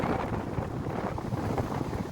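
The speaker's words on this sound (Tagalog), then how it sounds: "Kusog lang kay hangin." Strong sea wind buffets the microphone near a ship at Azuela Cove, Davao, as a continuous loud rumbling roar with no voices.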